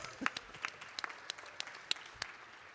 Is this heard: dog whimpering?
no